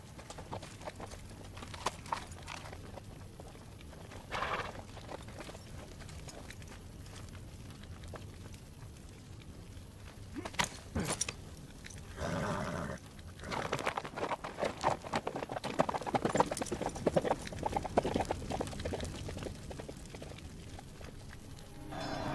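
Horse hooves clip-clop at a walking pace through a historical film scene, a faint irregular patter of steps under low background noise, with a few louder knocks and scuffs partway through and no talking.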